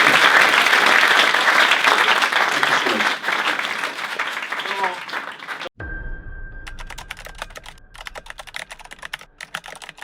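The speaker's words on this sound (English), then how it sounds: "we're also going to clap you because we think what you've done is amazing" An audience at a journalism event applauds for about six seconds, a dense clapping wash under faint voices, then it cuts abruptly to a quieter scene with scattered sharp clicks.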